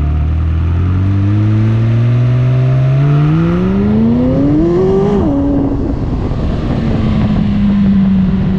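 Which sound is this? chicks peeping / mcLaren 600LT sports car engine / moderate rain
mcLaren 600LT sports car engine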